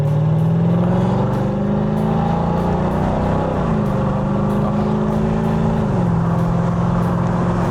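Mercedes-AMG SLK55 engine heard with the top down while driving, a loud steady droning rumble whose pitch holds, then shifts at gear changes, close and continuous, with no talk.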